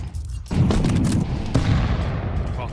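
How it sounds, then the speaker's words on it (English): A grenade blasts in a Counter-Strike match, one heavy boom followed by a second burst and a rolling, crackling decay, loud and near amid game ambience. "Well timed nade."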